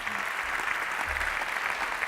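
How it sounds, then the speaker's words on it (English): Audience applause for the singer at the end of her set at a live tech-event show in Spain, a steady wash of clapping filling the whole stretch at moderate level. "One more round of applause for her"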